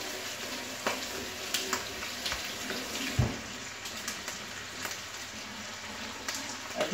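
Tap water runs steadily into a kitchen sink while something is rinsed during carbonara preparation, with a few light clinks and splashes and no talking.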